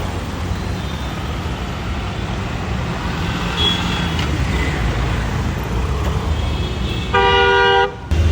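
Car horns in Indian road traffic: a loud, sustained honk blares near the end over a constant rumble of engines and road noise, with fainter toots earlier.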